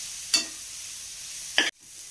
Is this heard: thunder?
no